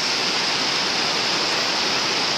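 River current rushing steadily, a dense, loud, unbroken wash of water noise with no pauses and no voices.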